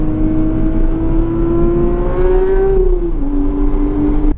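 A manual Porsche 992 GT3 on a race track revs loudly up through a rising whine, then drops and climbs again after a gear change, heard close and continuous without talking.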